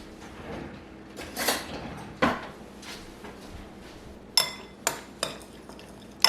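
Spoon scraping and clinking in a bowl while freeze-dried smoked cheese is stirred with liquid, several sharp knocks and scrapes spaced irregularly over a quiet background.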